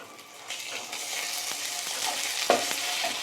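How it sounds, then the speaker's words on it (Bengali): Browned onions with ginger and garlic paste sizzle in a pan while a spoon stirs them, producing a bright continuous frying hiss broken by scraping strokes and one sharper clack near the end. "এবার আদা বাটা রসুন বাটা দিয়ে নিয়েছি। এইটা এবার ভালোভাবে ভেজে নেব।"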